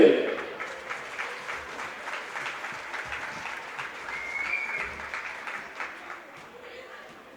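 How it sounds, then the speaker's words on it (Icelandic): At a charity match event, a crowd applauds a singer with moderate, steady clapping that swells briefly at the start and then continues evenly, somewhat distant and soft. "Við ætlum að gefa honum fyrstulega gott klapp"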